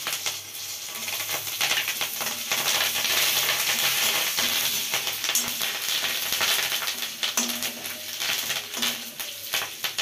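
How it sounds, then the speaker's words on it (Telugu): Chillies, curry leaves and tempering spices fry in hot oil for a brinjal curry, giving a steady loud sizzle and crackle with occasional faint metallic clinks, and no voices. "వేగిపోయిందండి పోపు"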